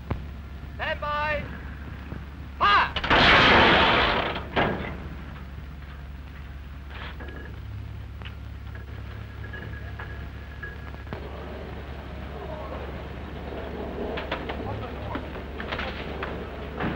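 A Martin-Baker ejection seat gun fires a single drill cartridge, a loud close blast that erupts early and fades into a low steady hum and faint background noise.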